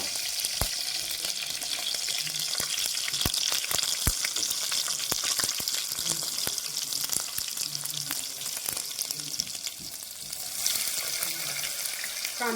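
Green chillies, mustard seeds and cumin frying in hot oil for a Sankranti bhogi vegetable dish, a dense continuous crackling sizzle with frequent sharp pops and spatters, close and steady throughout.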